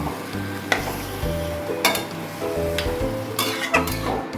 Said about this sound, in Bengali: এখন আমি খুব ভালো করে এটাকে কষাবো।